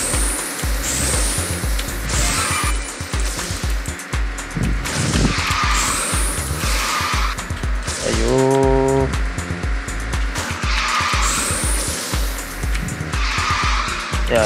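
A car drifting in the QQ Speed racing game, with a loud droning engine and repeated tire squeals that rise and fall in long slides, plus a brief tonal game chime partway through.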